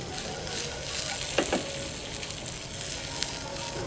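Onions frying in heated oil, a continuous moderate sizzle with brief stirring clicks around the middle, no talk.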